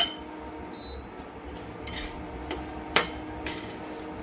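A metal spoon stirs and scrapes semolina roasting in ghee in a pan, with quiet steady scraping and a few sharp clinks against the pan, close and without talk.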